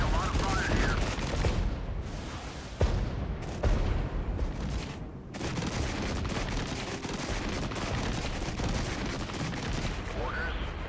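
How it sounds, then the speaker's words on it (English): Dense gunfire in the Regiments video game, with continuous rifle and machine-gun bursts layered over booming shots and a steady battle rumble, a voice speaking briefly amid the firing. "We're getting a lot of fire here."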